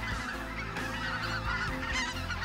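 Loud, continuous honking of white-fronted geese (specklebelly geese) in Arkansas, many overlapping calls close by with no pauses.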